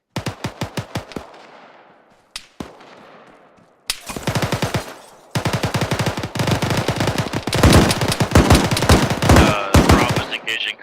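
ArmA 3 gunfire during squad training: sharp rapid bursts of automatic weapon fire, sparse single cracks at first, then long dense volleys building louder and nearly continuous toward the end.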